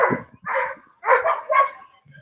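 A dog barks nearby in a run of about four short, rough barks at an even pace, moderately loud, with faint background sound between them.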